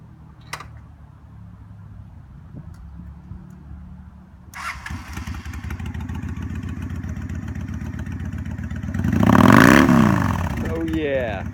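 A used 2003 Honda VT750 Shadow Spirit V-twin cruiser cranks and fires into a lumpy, loping idle, then gives a loud throttle blip that rises and falls, with brief talking near the start.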